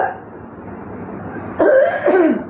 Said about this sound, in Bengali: জোরে কাশি দেন, জোরে কাশি দেন।